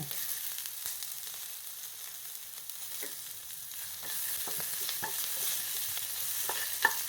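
Onions sauté in a pan, a soft continuous sizzle with scattered clicks and scrapes of stirring, fairly quiet and close, no voices.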